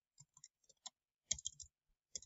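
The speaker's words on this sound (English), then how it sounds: "I'm typing pretty fast here" Fast typing on a computer keyboard, with irregular bursts of crisp key clicks heard up close in an otherwise quiet room.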